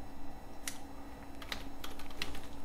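Keys clicking on a computer keyboard while code is typed, a few scattered keystrokes and short bursts over a quiet room hum.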